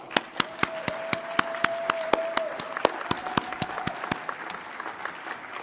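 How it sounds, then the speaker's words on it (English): Audience applause at an annual general meeting for long-standing members of a profession, heard as a steady bed of clapping with sharp, evenly spaced individual claps standing out and a faint sustained tone running beneath. "Please give them all a round of applause"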